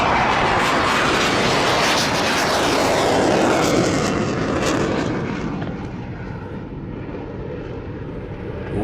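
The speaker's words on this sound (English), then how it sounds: "With this brilliant display of the Spanish F-18 Hornet." A Spanish F-18 Hornet jet at a flying display roars past in a loud, broad rush of engine noise that swells and then slowly fades as it moves away, with no voices.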